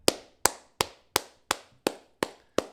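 Eight crisp hand claps in a steady, even rhythm, close and fairly loud, each with a short sharp decay and no voices.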